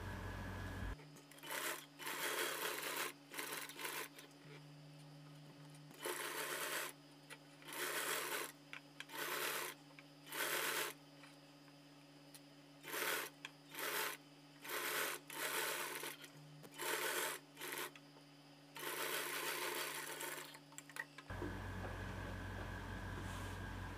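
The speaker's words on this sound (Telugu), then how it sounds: "నేనైతే కనుక ఇక్కడ ఒక టాప్ స్టిచ్ అన్నది వేస్తాను." A sewing machine top-stitches a drop neck blouse in repeated short bursts of rapid whirring stitching, separated by brief pauses, close and clear with no talk over it.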